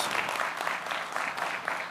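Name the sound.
conference audience applause welcoming the speaker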